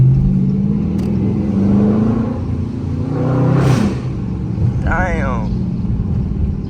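A Dodge Charger RT engine revs and rumbles through gear shifts while driving through a city early in the morning, loud and close, with people talking over the engine.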